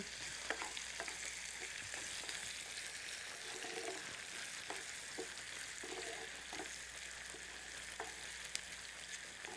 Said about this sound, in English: we want to roast it a little